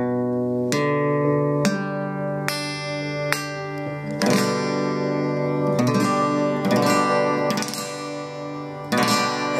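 An acoustic guitar is picked right at the bridge, giving bright, twangy notes in a slow sequence of about ten separate plucks that ring and overlap, loud and close, with no talking.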